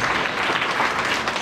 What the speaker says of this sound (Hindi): मैं आप सभी का जोरदार ताली से धन्यवाद करूँगा